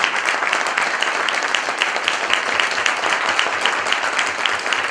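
A live audience at a public talk bursts into dense, sustained applause, loud and close, with many hands clapping steadily throughout and no voices over it.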